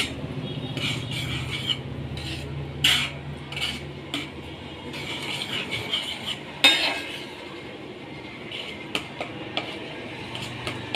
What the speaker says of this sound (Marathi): थोडं थोडं बेसन टाकून परतून घ्यायचं